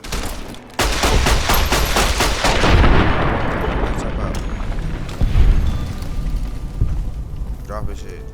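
Gunfire in the Fallout New Vegas video game, a loud, sustained barrage of rapid shots and booming blasts that carries on for several seconds, then fades into echoing reports.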